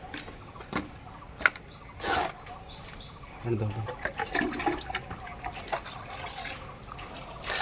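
Water is poured into a dragon fruit fertilizer mix of bone meal and horn shavings, producing a splashing, trickling pour with a few drips. Faint voices sit in the background.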